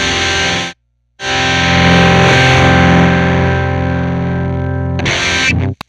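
An electric guitar plays through a Frost Giant Electronics Architect of Reality preamp pedal with heavy distortion, a sustained gritty chord ringing out after a brief pause, then a short burst of another strum.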